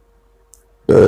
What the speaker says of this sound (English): Excuse me, sorry, I burped again.